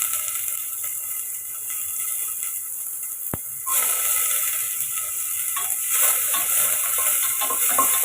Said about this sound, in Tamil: எண்ணெய் காஞ்சதும் இதில் கட் பண்ண வெங்காயத்தையும் சேர்த்துக்கோங்க.